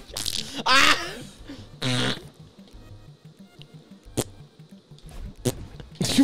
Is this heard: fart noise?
yes